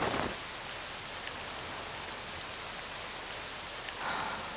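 Steady rain in the video game Octopath Traveler II pours down in a dense, even hiss, with a couple of faint heavier splashes and no voices.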